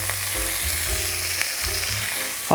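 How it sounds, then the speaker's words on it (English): Beef for birria tacos sizzles and fries in a hot pan, a steady close crackle with a few brief louder pops and low clunks from the cookware. "So let's get it in there and it'll sizzle a little bit"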